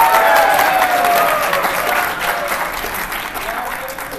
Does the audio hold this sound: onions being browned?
no